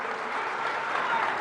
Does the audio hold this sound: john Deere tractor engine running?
no